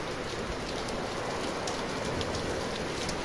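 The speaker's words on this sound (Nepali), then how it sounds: "पानी पर्यो" Rain mixed with hail pours down in a dense, unbroken patter on surfaces nearby, with no pauses.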